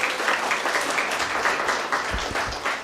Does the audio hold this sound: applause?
yes